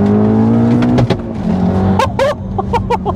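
A turbocharged manual MK7 Golf R tuned to over 500 bhp, accelerating hard in second gear: steady rising engine drone with turbo whistle, loud and close from inside the cabin, with brief gear-change breaks near the end.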